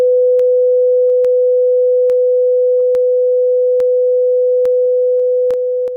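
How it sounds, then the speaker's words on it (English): Two sine waves shifted in phase form a steady, pure electronic tone holding at one pitch, broken by sharp, evenly spaced clicks. "I can shift the phase by just nudging either one of these sine waves in time."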